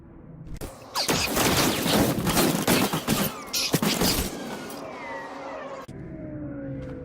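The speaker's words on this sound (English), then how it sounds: "Open fire, men!" Blaster fire in the video game SWTOR on Coruscant: a dense burst of rapid shots and impacts that runs loud for about three seconds, then trails off into lighter mechanical sounds and a fading whine.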